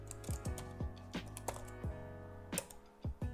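Keys clack on a computer keyboard as a command is typed, about a dozen crisp close keystrokes in an uneven rhythm over a faint steady hum.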